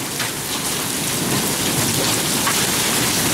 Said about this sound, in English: maybe we'll just keep rolling here a minute because of the hail and stuff. It's kind of sort of rare to see hail like that